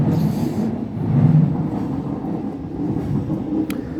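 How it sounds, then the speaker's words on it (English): A suburban train rolls past as a continuous low rumble and clatter of wheels on rails, loud and steady, with a faint brief squeal near the end and no talking. "there's a train coming"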